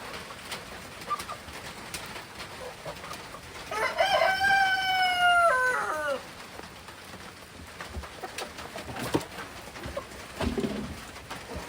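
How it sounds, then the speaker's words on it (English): A rooster crows once, clear and fairly close, among hens in a backyard chicken coop and run with Bantams, with soft clucks and scattered rustling before and after. "So we've got a lot of hens around here."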